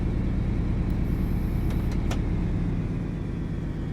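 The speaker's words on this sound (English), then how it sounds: "the brakes have just started coming off" A Class 43 HST power car in Train Sim World 5 gives a loud, steady engine rumble throughout while its brakes release, with a few short high hisses near the middle and no talk.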